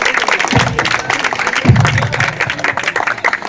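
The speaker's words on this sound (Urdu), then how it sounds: "تالیاں مارو بے." Scattered applause from a small audience at an award presentation for children, a few bursts of clapping under a steady noisy room hum.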